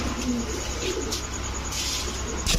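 Rajgolla pigeons from Munshiganj, a crested male and female pair, cooing softly close by in a steady low murmur over continuous background noise, with no talking.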